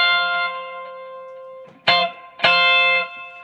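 Electric guitar played through a wet/dry rig's reverb side, sustained harmonic-rich notes and two fresh strummed attacks ringing out with a lingering reverberant tail, loud and alone.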